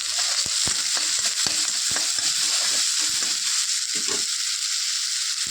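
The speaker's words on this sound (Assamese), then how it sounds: "নহৰু আৰু আদা একেলগতে মই ভাজি লওঁ।" Garlic and ginger with raw chili fry in a pan, a loud even sizzle with quick ladle taps and scrapes clustered early, then fewer strokes, close up and without speech.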